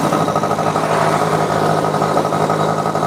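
A Suzuki FIZ R two-stroke motorcycle idles close by with a steady, buzzy engine note that holds even throughout, loud and alone.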